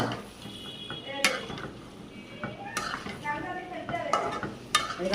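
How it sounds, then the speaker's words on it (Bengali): Ridge gourd with shrimp fries in a pan while a spoon scrapes and stirs it in scattered strokes, with a soft sizzle running underneath and close metallic clinks. "ঝিঙে ভাজি হচ্ছে"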